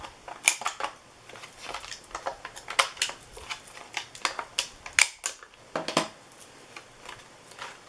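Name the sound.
corner rounder punch cutting laminated notepad corners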